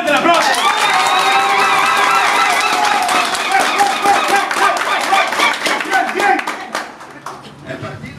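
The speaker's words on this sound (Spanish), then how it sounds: "¡Fuerte el aplauso!" A crowd at a political party swearing-in of new members breaks into loud, sustained applause with cheering voices, the clapping thinning and fading toward the end.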